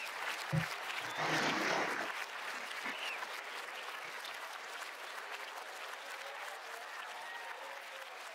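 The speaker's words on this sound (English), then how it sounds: "Let's have a big round of applause for his contributions and achievements." An audience applauds at a yoga award ceremony. The clapping swells loudly for a moment, then carries on as a steady, even round with no voices over it.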